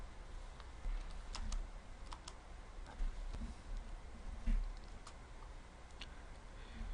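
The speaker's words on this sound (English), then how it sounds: "So if I type show run" Keys tapped on a computer keyboard as a command is entered on a network router's console, a loose run of quick, light clicks close by with no speech.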